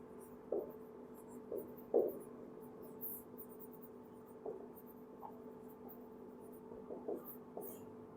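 Writing on a board or paper during an accounting lesson, heard as faint, scattered scratchy strokes in short irregular bursts over a quiet room hum.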